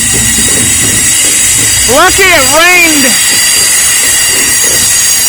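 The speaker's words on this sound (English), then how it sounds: "Trash train." A Norfolk Southern trash train passing in Lynchburg, Virginia after rain, a loud, steady rolling rumble and hiss close by, with a brief wavering wheel squeal partway through and a voice speaking over it.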